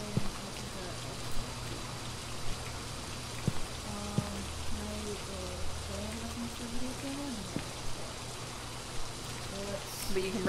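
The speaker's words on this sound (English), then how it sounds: "Of course it's raining." Steady rain falls throughout a Phasmophobia game scene, a constant patter of drops on surfaces with faint tonal hums and occasional clicks underneath.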